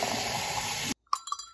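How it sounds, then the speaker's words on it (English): Cilicon cartridge dropped into a small bowl of warm water: a steady gush of running water that cuts off abruptly, followed by a few light clinks and splashes. "put it in a little bowl of warm water"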